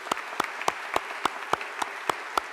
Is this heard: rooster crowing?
no